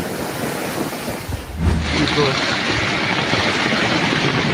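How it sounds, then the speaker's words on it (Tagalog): Giant waves and strong typhoon winds batter Pio Duran Port in Albay during a super typhoon, with a continuous loud roar of surf and gusting wind, and a heavier surge of water crashing partway through. "Malahiganteng alon at malakas na hangin din ang tumama sa Pio Duran Port sa Albay"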